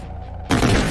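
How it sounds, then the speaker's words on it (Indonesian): Pistol gunfire in a 2024 Western film about Calamity Jane: after a quiet hum, a sudden loud, dense burst of close shots erupts and fills the rest of the moment. "3 orang itu tewas dengan pistol Jane."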